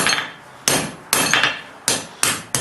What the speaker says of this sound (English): I'm going to catch this last little tip here and forge it out on the far face of the anvil